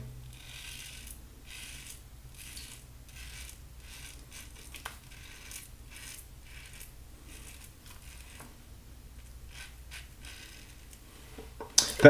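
Close, dry scraping of an all-brass shavette razor cutting through stubble, short rasping strokes repeating in a steady rhythm with brief pauses, a small clatter at the end.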